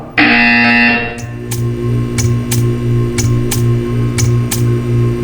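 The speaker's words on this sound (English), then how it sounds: "You will hear a buzzer." A loud, steady electronic buzzer tone in the Portal 2 video game sounds for about a second, then gives way to a pulsing mechanical hum with rhythmic clicks repeating roughly every half second.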